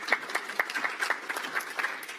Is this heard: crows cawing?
no